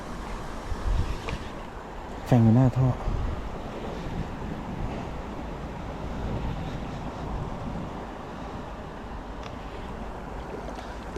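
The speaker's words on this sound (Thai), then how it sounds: "น้ำไหลฮะ" Constant rushing water with gusty wind noise on the microphone; a person speaks briefly near the start.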